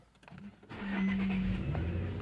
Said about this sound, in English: Fires big boy up.